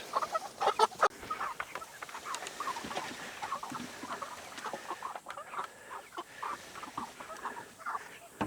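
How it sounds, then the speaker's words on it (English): A flock of chickens clucks and murmurs close by, a busy, uneven chorus of short calls with no talking. "So this batch of chickens we got here, they are enormous."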